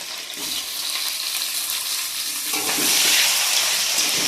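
Tomatoes go into hot oil in a pan for a katla fish curry, a close, steady sizzle that grows louder partway through, with no talk.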